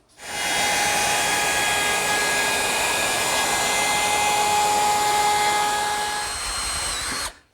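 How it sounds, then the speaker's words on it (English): A wood router fitted with a 3/8 inch roundover bit shapes the edge of an Adirondack loveseat part, giving a loud, steady high-pitched whine that holds for about seven seconds before spinning down. "going to use a 3/8 inch roundover bit"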